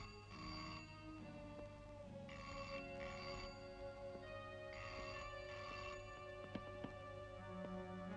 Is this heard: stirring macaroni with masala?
no